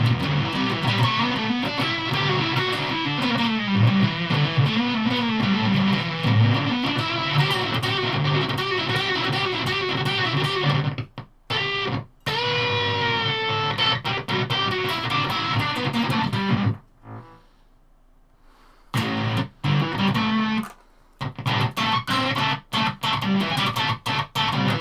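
Electric guitar played through a Gamechanger Plasma distortion pedal, heavily fuzzed riffs and sustained notes with abrupt stops and brief silences between phrases.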